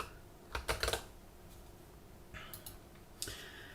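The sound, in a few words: typing on a computer keyboard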